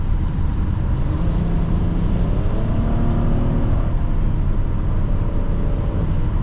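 Inside a 2012 Hyundai Santa Fe Limited V6 on the move, a steady cabin rush of wind and road noise mixes with a low engine hum, constant and fairly loud throughout without any talk.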